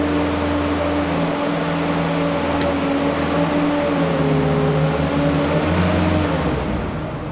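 A boom lift's engine drones steadily as the machine drives one wheel onto a 6-inch rise, a constant mechanical hum with a faint shift in pitch partway through and a slight fade at the end.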